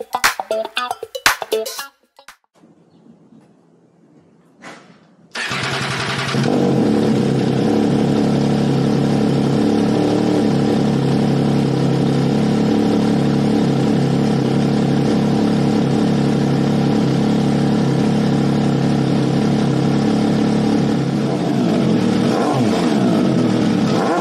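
An MV Agusta Turismo Veloce 800 motorcycle with an aftermarket QD exhaust starts up after a few faint handling noises and settles into a loud, steady idle, with small throttle blips near the end.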